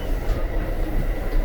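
Steady rumble and rail noise of the Amtrak Adirondack passenger train running southbound, heard from inside a coach as a continuous close low roar.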